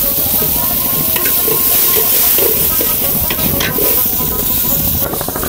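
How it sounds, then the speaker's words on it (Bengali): Fish and vegetables such as okra, potato, chili and onion fry in a pan aboard a fishermen's boat, giving a steady loud sizzle and hiss with occasional stirring clatter. "ওনারা প্রথমে মাছ ভাজি করে নিচ্ছেন হালকা, তারপরে এই যে সবজি ভালো করে ভেজে নিচ্ছেন"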